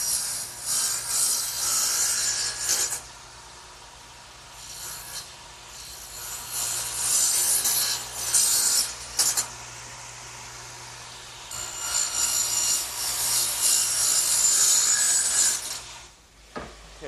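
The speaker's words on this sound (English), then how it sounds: "I'm going to have to swing my radial arm 4 degrees on the other side of 0 to make these cuts" A radial arm saw swung a few degrees off zero rips angled cuts through wood for a workbench, with bursts of loud, high whining saw noise alternating with quieter gaps of motor hum.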